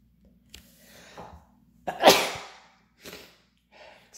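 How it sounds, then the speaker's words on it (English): A single loud, close sneeze bursts out after a sharp intake of breath, followed by softer breathing and small movement noises indoors. "Sorry, I sneezed."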